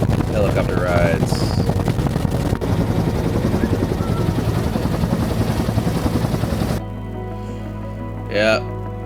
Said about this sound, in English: Helicopter rides.